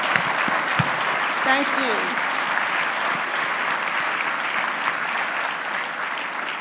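Audience applauding military veterans at a leadership conference, a dense, steady wash of clapping filling the room throughout, with a brief spoken word of thanks over it.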